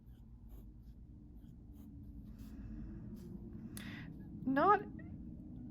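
A Lamy Safari fountain pen with a left-handed nib writes on paper, making faint, close scratching under a steady low room hum, with a brief squeak near the end.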